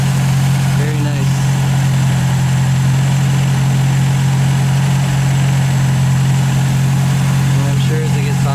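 A 1951 MG TD idles steadily close by, a constant low throbbing hum with no change in pace, while a voice speaks briefly over it.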